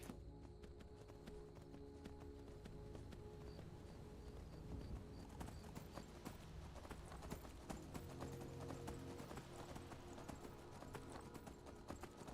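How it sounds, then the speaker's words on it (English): Horse hooves clip-clop at a steady, unhurried jogging pace in a video game, faint and continuous, with a low background hum and scattered game sounds around them. "These horses in this game are not fast"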